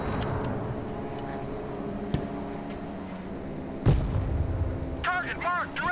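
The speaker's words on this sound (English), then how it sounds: "Now we got some artillery." Artillery fire in the video game Broken Arrow lands as a few booming impacts over a low rumbling battle bed, with one heavier blast near the middle; a voice talks over it.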